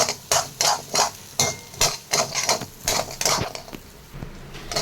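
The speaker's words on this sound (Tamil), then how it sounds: "ஓகே எல்லா வெஜிடபிள்ஸும் போட்டதுக்கப்புறம் மறுபடியும் மிக்ஸ் பண்ணிக்கோங்க" Vegetables for fried rice being stirred in a pan: a close run of quick, rhythmic scraping and tapping of a spatula against the metal, about a dozen strokes in steady succession, with no talk.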